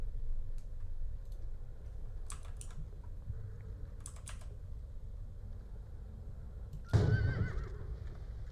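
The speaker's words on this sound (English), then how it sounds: "It's the boomacorn. It's making unicorn sounds, actually, not horse sounds." A Boomacorn gun in the Borderlands video game making unicorn neighing sounds: quiet ticking and clicking, then a sudden louder whinny near the end.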